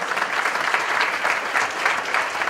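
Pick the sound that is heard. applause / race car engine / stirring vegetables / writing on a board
applause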